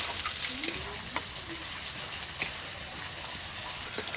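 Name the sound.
frying onion, ginger-garlic, green chilli and tomato in pan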